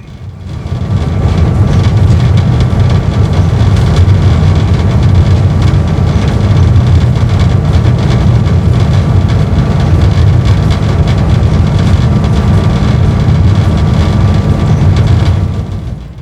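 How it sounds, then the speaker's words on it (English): A Conrail locomotive rumbles heavily and continuously through deep snow over buried rails in whiteout conditions, a loud, close, steady low engine roar with rail noise and no talk. "Whiteout conditions almost prevail as the locomotive finds its way over the buried rails."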